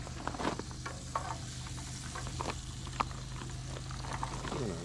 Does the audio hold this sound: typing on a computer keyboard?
no